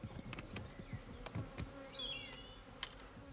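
Honeybees hum around their hives in a close, steady buzz, with individual bees zipping past and several sharp ticks and clicks breaking through.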